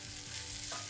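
Rice, pepper and fish fry in a pan with a dense, steady sizzle, close and continuous across a short moment.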